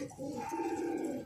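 A single short, close coo comes from Aziz Bhai's pigeons in Tonk, Rajasthan, a brief throaty call heard alone.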